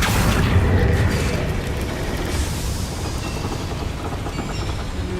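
A fiery Incendio spell is cast in Hogwarts Legacy, opening with a loud whooshing burst that rumbles on and then settles into a steady, slightly quieter roar of flame.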